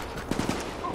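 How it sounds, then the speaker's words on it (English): Several quick gunshots from a firefight in the video game Tom Clancy's The Division, three sharp bursts close together in the middle of a short noisy stretch. "Oh god, they're shooting! They're shooting me!"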